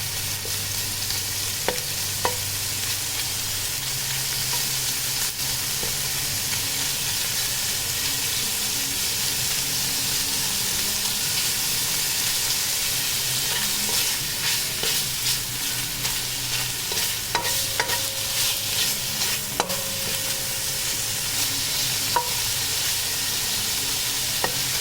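Pork fat sizzles steadily in a hot pan for fried rice, a continuous bright crackle with occasional stirring scrapes and a few faint clinks, no talking.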